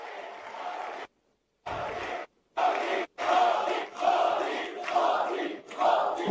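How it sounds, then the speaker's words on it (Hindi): A crowd at a government beneficiaries' event with the Prime Minister cheers and shouts in loud bursts, broken by two short silent gaps, the roar swelling and falling in waves with no clear clapping. "एक बार फिर तालियां बजाइए, स्वागत कीजिए, अभिनंदन कीजिए"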